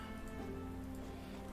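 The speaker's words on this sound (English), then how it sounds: "Totally unprepared for rain." Steady, faint video game rain patters on a surface in Panzer Corps 2, with a low constant hum running underneath.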